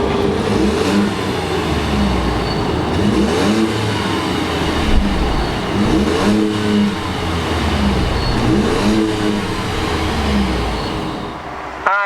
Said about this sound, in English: let's go ahead and fire up this EcoBoost and see what it sounds like